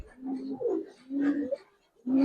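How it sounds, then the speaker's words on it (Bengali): A pair of silver Giribaz pigeons coos up close, giving soft, low rolling coos in three or four phrases separated by short pauses, with no talk. "এক জোড়া ভাই বাঁকা সিলভার কবুতর দেখেন ভাই"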